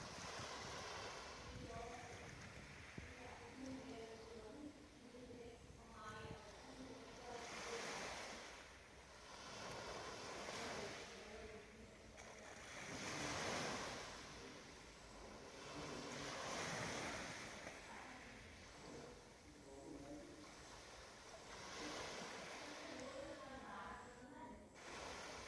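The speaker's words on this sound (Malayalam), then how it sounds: "തിരമാലകളുടെ ശബ്ദം നിങ്ങളുടെ കാതിൽ ഒരു സംഗീതം പോലെ" Ocean waves wash onto the shore in slow repeating surges, each swell rising and receding over a steady hiss of surf with a light wind underneath, moderately distant and calm, no voices.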